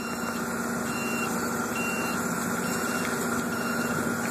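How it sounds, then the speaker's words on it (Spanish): A forklift's steady electronic reversing alarm beeps repeatedly over a loud, constant engine rumble nearby. "Pueden dar cuenta, la alarma está sonando."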